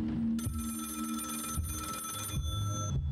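An old-style telephone bell rings in a restaurant horror video game, a steady metallic trill repeating in short bursts over a low ambient hum, fairly faint with no talking.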